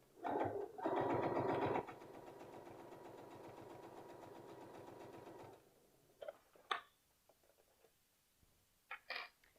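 A twin-needle sewing machine stitches a T-shirt hem in a short, loud, close burst that settles into a quieter steady whir for a few seconds, then stops, followed by faint clicks and handling noises.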